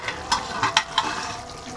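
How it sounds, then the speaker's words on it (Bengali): Chicken pieces being stir-fried in a pan, with a low frying sizzle under a few sharp scraping clicks of a spatula against the pan, close and steady. "মাংসটা ভালো করে আমি কষিয়ে নিব।"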